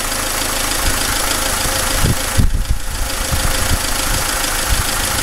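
A diesel car engine idles steadily and loudly up close, a continuous rumbling drone with a brief uneven knock-like surge partway through.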